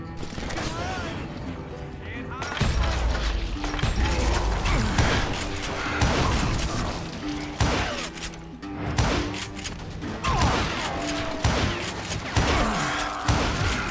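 Gunshots ring out in the Call of Juarez: Gunslinger video game as sharp repeated cracks and bursts over mechanical clicks and background score, with someone talking through the action.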